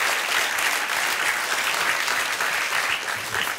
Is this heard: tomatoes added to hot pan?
no